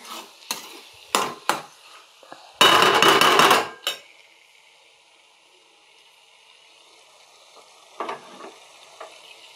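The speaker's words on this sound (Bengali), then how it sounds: "ডালটা এখন একটু নাড়াচাড়া করতে থাকবো, কাজুটাও একটু হালকা হালকা ভাজা হয়ে যাবে" Dal being stirred in a pan while cashews lightly fry, giving scrapes and clatters of a utensil with one loud, sustained burst of sizzling midway, then quieter, softer stirring noises with no talk.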